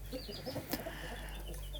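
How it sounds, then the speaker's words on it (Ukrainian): Large Barbezieux roosters and hens on a farmyard cluck softly and intermittently in the distance, faint low murmuring calls over steady background hum. "Півні крупні, здорові."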